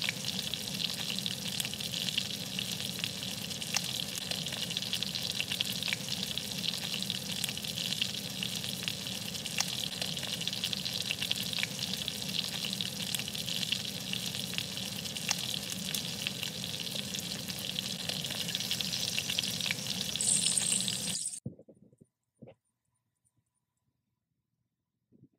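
Meat fries in a pan with butter and thyme, giving a steady, close, crackling sizzle that runs for about twenty seconds before cutting off abruptly into near silence with a few faint clicks.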